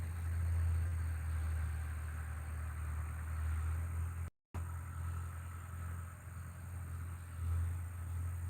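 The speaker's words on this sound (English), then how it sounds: "I hear a tractor running." A tractor baling hay runs somewhere off in the distance on a rural property, a steady low engine rumble holding faintly and continuously through the quiet outdoor air, with a brief dropout midway.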